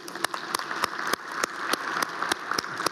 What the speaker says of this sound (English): This applause go to you.